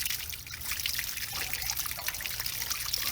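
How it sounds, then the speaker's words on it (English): Water drains from an RV water heater tank in a steady, close trickling pour that runs continuously without pause. "Let that finish draining out."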